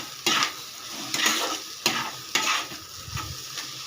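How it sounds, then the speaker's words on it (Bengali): Curry leaves are stirred into a sizzling filling in a frying pan for a children's tiffin snack, with about five distinct scraping stir strokes over a steady close frying hiss. "এবারে দিয়ে দেব কারি পাতা, দিয়ে একটু নাড়াচাড়া করে"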